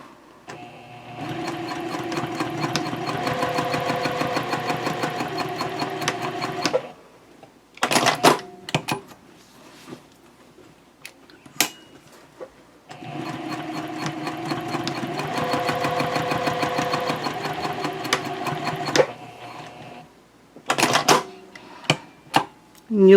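A sewing machine top stitches a messenger handbag, two long steady close-up runs of rapid whirring stitching, each several seconds, separated by short clicks and handling noises, with a voice speaking briefly between runs.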